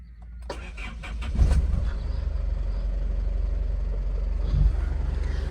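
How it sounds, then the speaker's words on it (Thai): A 2005 Isuzu MU-7 with a 3.0 CommonRail diesel is started nearby: a brief cranking burst, then the engine catches and settles into a steady, low idle rumble with a slight rev bump, no talk. "เดี๋ยวเรามาฟังเสียงสตาร์ทเครื่องกันครับ"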